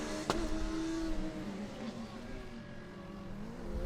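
A race car runs fast on a track, its engine note rising and shifting as it passes at moderate distance, with a sharp transient near the start.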